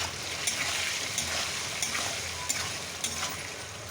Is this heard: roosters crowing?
no